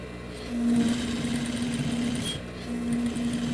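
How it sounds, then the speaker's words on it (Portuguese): A sewing machine stitching a farmhouse-style fabric bread basket, running in a fast, steady, even hum with a brief dip in pace midway, heard up close and alone. "E aí eu vou fazer minha costurinha."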